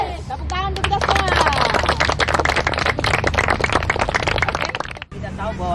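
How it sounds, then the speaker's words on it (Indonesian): A crowd at a teachers' event in West Sulawesi breaks into applause. Brisk, dense clapping is mixed with voices and cheering for several seconds, then stops abruptly and talk carries on. "Tepuk tangan untuk kita semua."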